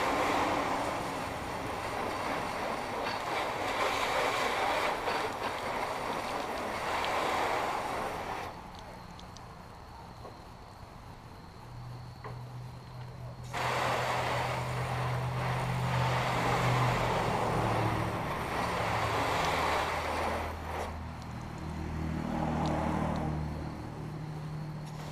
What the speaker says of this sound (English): I'm just going to use my regular hose on shower mode